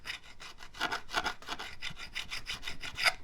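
A Chinese-made diamond fret crowning tool files back and forth across a metal guitar fret, giving quiet, rhythmic rasping strokes at a steady pace, close up and without speech.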